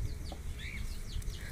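A sick hen suffering from white diarrhoea gives a few soft, short clucks, fairly faint against a low background murmur, with no one speaking.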